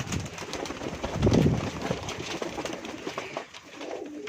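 Bosky pigeons coo softly close by, low murmuring calls that swell midway amid light rustling and background noise.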